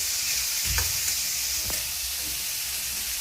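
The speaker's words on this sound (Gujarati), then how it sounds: "અને સરસ એવું ફ્રાય થવા દેવાનું થોડી વાર." Food frying in a pan sizzles with a loud steady hiss, broken by a few stirring scrapes and clinks near the start and middle.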